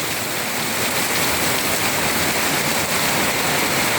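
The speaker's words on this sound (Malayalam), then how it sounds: "നല്ല സംഗീതമുണ്ടല്ലോ മഴക്ക്" Rain pours steadily onto large plants in a garden yard in Kalanad, Kasaragod, a dense, even hiss of drops on leaves that stays loud and unbroken throughout.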